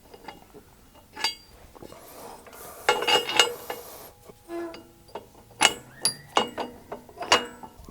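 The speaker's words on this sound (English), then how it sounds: "Take that pin out and I'm gonna re-stick it." Metal pin being pulled out and pushed back into a tractor auger mount, giving sharp clanks and scraping metallic clicks in irregular bursts, close by with no talk.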